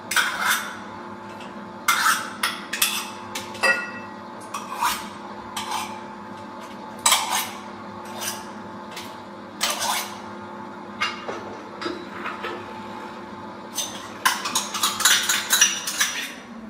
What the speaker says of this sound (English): I need to cream the butter and the sugar first